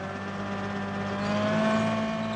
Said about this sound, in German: Der Häcksler wird von einem Traktor angetrieben.